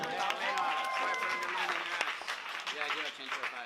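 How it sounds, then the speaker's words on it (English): Audience applause at a high school open mic night, a steady wash of clapping with cheering voices mixed in, lasting the whole moment at a fairly even loudness. "Everyone give a round of applause for Lena."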